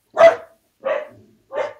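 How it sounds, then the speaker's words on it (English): A dog barks three times somewhere in the room, fairly loud and spaced about a second apart, with no talking over it. "that's my dog in the background"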